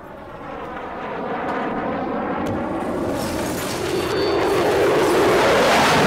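Airplane engine roar from The Forest video game, a loud steady drone that builds and thickens over about six seconds with no talking.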